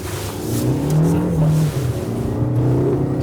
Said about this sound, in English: it accelerates with the gears. That's pretty quick, that.